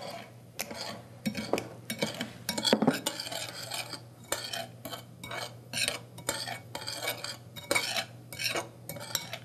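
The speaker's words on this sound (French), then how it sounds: "Est-ce que tu veux mélanger? On essaye d'avoir un mélange homogène." A sugar mixture is stirred in a bowl with a utensil, giving rapid, rhythmic clinking scrapes that repeat steadily and close up throughout.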